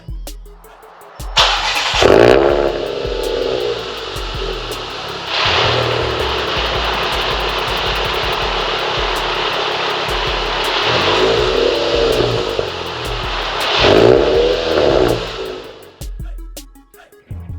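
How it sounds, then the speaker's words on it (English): A VW 2.5 engine with a newly installed EVO exhaust header cranks and fires up, then revs hard several times with a raspy exhaust roar, settling between throttle blips before shutting off. "after you fire the engine and check for exhaust leaks"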